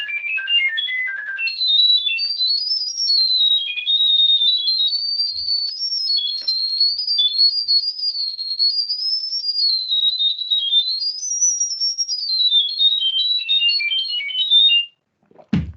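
A long time series sonified as a stream of pure electronic tones, a wavering whistling pitch hopping up and down continuously for about fifteen seconds, loud and alone, ending with a brief thump.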